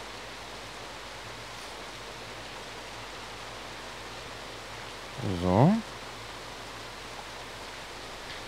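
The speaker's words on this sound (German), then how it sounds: "Wieso regnet es hier immer noch rein?" Rain falling into a greenhouse in Starbound makes a constant soft hiss of steady patter. Midway, a brief sung voice briefly rises over it.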